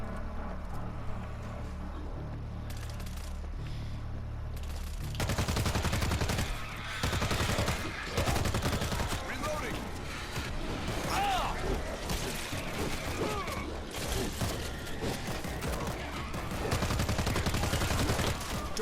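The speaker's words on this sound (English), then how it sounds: "Let's swap over to our submachine gun." Rapid bursts of submachine gun fire from World War Z gameplay crackle loudly over a steady mechanical background, with repeated volleys and short pauses between them.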